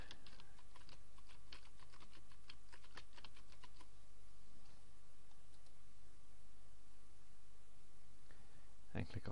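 Quick bursts of keystrokes clatter on a computer keyboard as a search is typed, light clicks clustered early and then thinning out, close and quiet against a faint steady hum.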